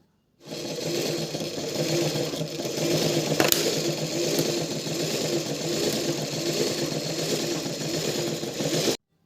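A sewing machine stitches a folded skirt hem with a continuous fast mechanical whirr of rapid needle strokes, close and steady for about eight seconds after a quick start.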